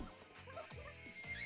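A horse neighs in the Miitopia video game on Nintendo Switch, a short series of whinnying calls with a few hoof-like clops, fairly faint and alone.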